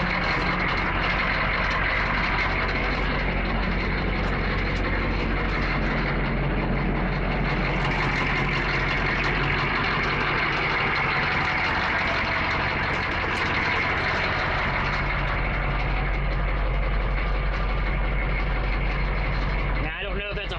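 A military M1008 CUCV truck with a 6.2L diesel engine idles after a cold start, a loud steady low clatter and rumble continuing throughout, close up and unbroken until a brief knock at the end.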